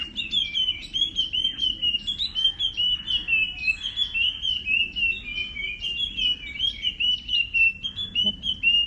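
Continuous, rapid high-pitched chirping and whistled calls of a puff-throated babbler, a lively song repeating steadily in the open with little background noise.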